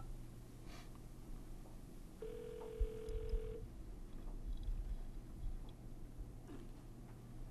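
A telephone rings once with a steady electronic tone of about a second and a half, faint against a low constant room hum.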